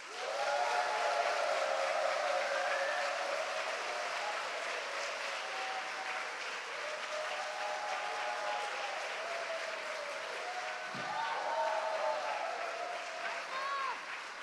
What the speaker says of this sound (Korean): 여러분 큰 박수로 맞으세요.